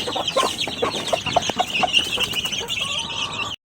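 Pet chickens clucking close by, a dense, busy chatter of short clucks from several birds, continuous until the sound cuts off abruptly.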